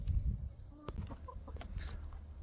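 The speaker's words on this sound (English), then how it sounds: "so the chickens are interested" Chickens clucking and fussing in a garden around dumped compost, with short scattered calls over low background rumble; no talking.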